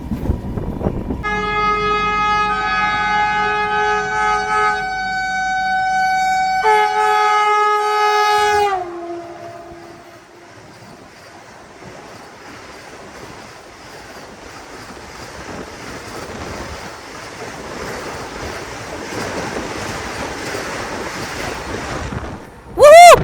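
Poorva superfast express on the main line near Patna, sounding a long, loud two-tone horn blast while the waiting train sits on the loop line, then a sustained roar of wheels and rushing air as it passes close by, ending with a short horn toot.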